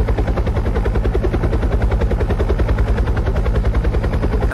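Close, loud helicopter rotor chop, a rapid steady thumping pulse with a deep engine drone underneath, continuous throughout.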